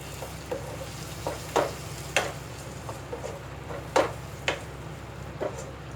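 Ground tomato paste from three blended tomatoes hits a hot pan of bhindi masala (ladies finger curry), giving a steady close sizzle broken by several sharp spitting pops.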